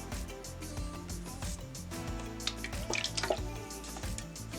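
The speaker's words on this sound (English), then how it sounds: "Okay, and we've got a drip coming from somewhere." Water dripping and trickling from a lidded prototype container that leaks despite a metal filling, heard as close, steady wet patter with a few sharper drops near the end.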